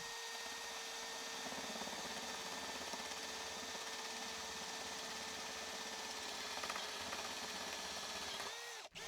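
An Irwin Speedbor paddle bit bores through a wood stud, a steady, close, fairly quiet drill whine held for about nine seconds before a brief dip at the end, with no talking.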